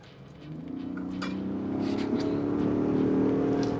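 A 2021 Ford F-150 Hybrid pickup with a twin-turbo engine accelerates hard, its engine note rising steadily and growing louder as heard from inside the cab, with no talk over it.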